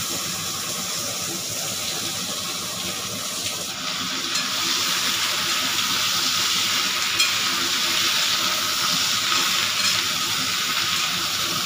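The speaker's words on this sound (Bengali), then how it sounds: "মাছ ভাজার তেলেই দিয়ে দিতে হবে আমাকে সব সবজি, পেঁয়াজও একসাথে।" Mixed vegetables and onion fry together in the oil left from frying rohu fish, giving a steady, loud, continuous sizzle with occasional stirring; no one speaks.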